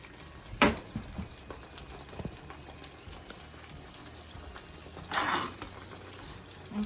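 Salted fish going into a hot pot on a stove, giving two short bursts of loud sizzling that rise above a quiet background hiss.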